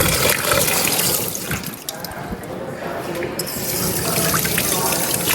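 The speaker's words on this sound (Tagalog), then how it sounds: "hugasan po muna natin to ng" Tap water runs and splashes as freshly caught fish are washed in a sink, making a close, fluctuating gush with dripping, and a voice speaks at times.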